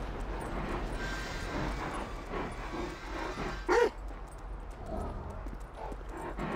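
Chop the dog in GTA 5 lets out a single sharp bark midway, standing out over steady game ambience and scattered clattering footsteps.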